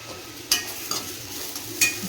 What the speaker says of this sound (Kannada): ಈಗ ನಾವು ಹುರಿತಕ್ಕಂಥ ಮುಲ್ಲಂಗಿನ ಏನಾಗ್ಯಾವ ನೋಡೋಣ ಬರ್ರಿ